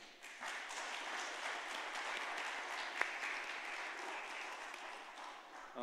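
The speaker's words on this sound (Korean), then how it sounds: "우리 같이 박수 한번 쳐드릴까요?" A church congregation at a Korean Sunday worship service claps together in a steady, even wash of applause that lasts throughout, heard from a moderate distance in a large room.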